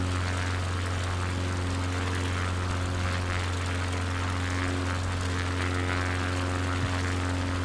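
A propeller plane drones steadily through a Finnish bush flight in Microsoft Flight Simulator 2020, its engine holding a constant, loud hum with strong low tones for the whole stretch and no voices.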